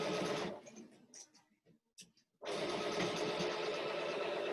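Sewing machine running a straight seam on pinwheel quilt blocks, a steady close whir at the start, pausing briefly with a few faint clicks, then resuming for a sustained even run.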